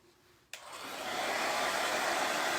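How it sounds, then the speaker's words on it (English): A hair dryer switches on abruptly and blows steadily, its airy roar building slightly and then holding level, used on drying caulk paint on a textured pumpkin quilt block. No talking. "Maybe I'll hit it with a hairdryer."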